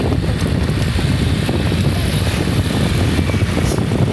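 A motorcycle on a highway produces a loud, steady, low engine roar with heavy wind buffeting, continuous and close throughout without pause.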